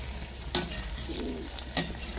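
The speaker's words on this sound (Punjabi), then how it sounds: "ਪਹਿਲਾਂ ਆਪਾਂ ਤੇਲ ਦੇ ਵਿੱਚ ਕਰੇਲਿਆਂ ਨੂੰ ਫਰਾਈ ਕਰਾਂਗੇ ਤੇ ਹਲਾਈ ਜਾਵਾਂਗੇ ਕਰੇਲਿਆਂ ਨੂੰ" Bitter gourd frying in hot oil while being stirred: a continuous close sizzle with two sharp scraping clatters of the spoon against the pan, no voices.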